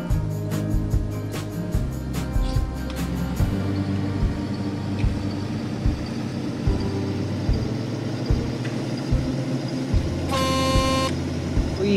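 Vehicle horn in the Farming Simulator 2013 video game, blaring in short repeated toots and then a longer steady blast over a constant engine drone, loud and close.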